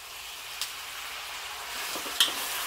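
Pork belly frying in a pan with black sauce and no oil, a steady close hiss with a couple of brief clicks of stirring.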